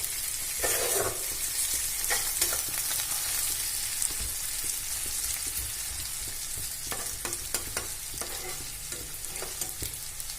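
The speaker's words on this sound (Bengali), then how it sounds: "টমেটোগুলো এর মধ্যে দিয়ে ভালো করে নেড়ে করে ভেজে নেবো" Tomatoes sizzle steadily in a hot pan, with repeated scraping and clinking as a spatula stirs them, loud and close.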